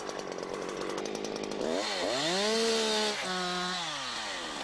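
Husqvarna chainsaw cutting into a tree trunk, a loud, close engine whine that rises sharply in pitch as the chain bites, then dips and levels off as the cut continues.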